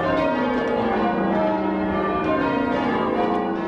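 A team of bell ringers rings church bells in Tynemouth, and the overlapping strikes make a steady, dense wash of ringing tones. The ringing sounds loud and continuous with no speech.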